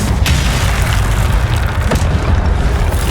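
An Incendio fire spell erupts in the Hogwarts Legacy video game as a loud, sustained roaring boom that fills the whole moment with dense, rumbling blast noise and no voices.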